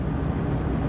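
Rear axle howl inside a Moskvich 2140 SL (AZLK) sedan, a steady low droning whine over road rumble, continuous and moderately loud throughout, with no voices.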